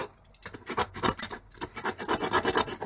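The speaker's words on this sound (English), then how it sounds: "Just sort of carving off the burrs." Burrs are carved and filed off a piece by hand, rhythmic rasping and rubbing strokes in quick succession after a short pause, close and fairly loud with no talking.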